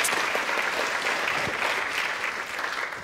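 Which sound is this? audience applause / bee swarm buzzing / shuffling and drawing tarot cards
audience applause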